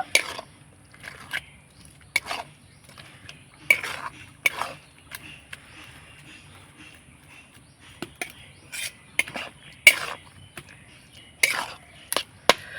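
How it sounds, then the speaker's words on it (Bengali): Spices such as turmeric are stirred into a raw mango mixture in a pan, giving soft scraping and clinking spoon strokes in irregular bursts over a quiet background, with no speech. "এবার ভালো করে নাড়াচাড়া করে মিশিয়ে নেব।"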